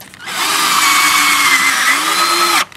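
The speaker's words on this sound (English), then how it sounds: "I like to drill these with my drill" Loud power drill driving a screw into a pool fence gate frame for a magnalatch self-closing latch, a single continuous motor whine with a slight pitch sag near the end before it stops sharply, no voices.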